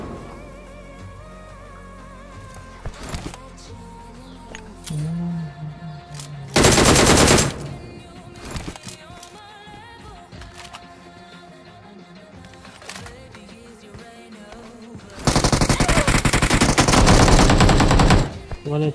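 Automatic gunfire during a gun fight in the mobile game BGMI comes in two loud sustained bursts over quieter in-game ambience, with a few sharper isolated shots between them.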